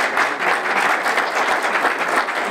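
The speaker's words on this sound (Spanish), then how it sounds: "un aplauso para ella" Guests at an international awards gala applaud hostess Sofía, a thick, continuous crowd clapping that stays loud and even throughout, with no speech over it.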